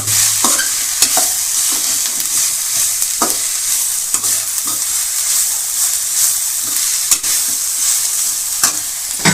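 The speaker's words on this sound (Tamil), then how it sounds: "நசுக்கி வச்சுருக்கோம்ல நல்லா மிக்ஸ் பண்ணி வதக்கிங்க" Crushed ginger and garlic stirred and sautéed in a hot pan for poori potato curry, a steady sizzle under repeated scraping strokes of the spoon, close and loud with no talk.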